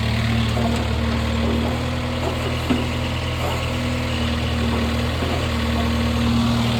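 A tractor engine idles steadily at close range, a continuous low-pitched rumble with a constant mechanical hum and light vibration running unbroken throughout, no voices present.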